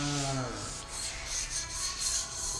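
Hand rubbing across a hand-scraped wooden floor, a soft, close, continuous swishing friction with gentle rhythmic strokes, following a brief low voiced murmur at the start.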